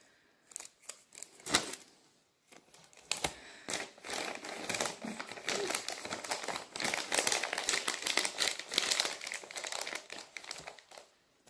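Gift wrapping paper crinkled, folded and taped around Christmas presents, with close, busy rustling and crackling bursts that build into near-continuous crumpling after a few brief pauses.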